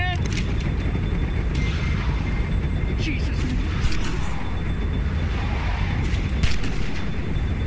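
Gunfire cracks out during a tense zombie-survival chase, with several sharp shots cutting through a dense, noisy roar of engine and wind, while agitated voices carry underneath.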